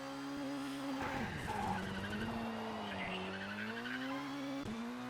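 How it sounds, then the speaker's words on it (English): Car in a racing video game pulls a handbrake turn, a sustained tyre skid squealing over a steady droning engine for several seconds, loud and close. "what a good handbrake turn"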